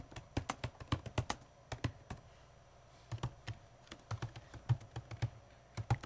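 Keys clatter on a Surface Laptop 3 keyboard in quick, uneven bursts of crisp, light clicks with short pauses between runs, close and clear in a quiet room.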